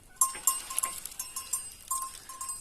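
Goats approach on a homestead in Portugal, a worn bell clanking irregularly nearby with faint movement and a possible soft bleat underneath, no voices heard.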